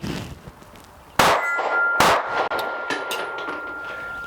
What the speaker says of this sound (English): All right, we'll go for that steel target again.